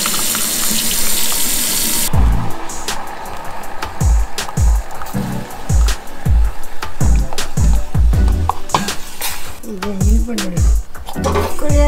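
Tap water runs into a cup for mixing organic flour in a home kitchen, a loud steady stream with clinks of dishes and utensils through it.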